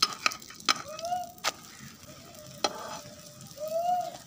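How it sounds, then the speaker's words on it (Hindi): An egg fries in a little ghee in a pan, giving a quiet, close sizzle broken by a few sharp clicks and scrapes of a utensil against the pan. "एक साइड अंडे की पक चुकी है"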